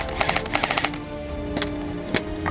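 Airsoft guns firing in an intense battle at an outdoor field, a quick burst of rapid shots followed by two sharp single pops, close and loud with no talking.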